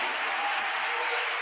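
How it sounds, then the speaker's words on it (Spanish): A church congregation applauds, with dense steady clapping from many hands filling the room for a brief stretch. "Démosle otro aplauso"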